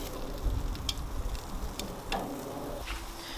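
Steak cooking on an outdoor grill in the morning, a faint, soft sizzle with occasional light ticks and crackles, heard alone without talk.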